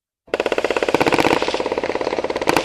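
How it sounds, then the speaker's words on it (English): A firearm fires a long, rapid automatic burst: dozens of sharp, loud shots in a fast, even rhythm, close to the microphone, beginning after a brief silence and running to the end. "So you have a suppressed gunshot over here and an unsuppressed gunshot over here."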